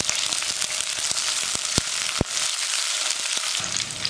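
Garlic and green chili frying in hot oil in a kadai, giving a continuous bright sizzle punctuated by occasional sharp taps, with no talking.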